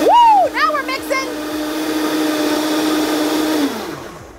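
A kitchen blender mixing cream, sugar and vanilla runs with a loud, even motor whine after a short burst of speech, then cuts off near the end.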